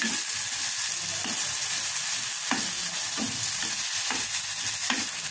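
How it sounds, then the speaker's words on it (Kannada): Tomato and tamarind fry in a pan with a continuous close sizzle, punctuated by regular spatula stirs and scrapes roughly every second, with no voices. "ಇದಕ್ಕೆ ಸ್ವಲ್ಪ ಹುಣಸೆಹಣ್ಣು ಹಾಕಿ ಹುರ್ಕೊಳ್ಳೋಣ."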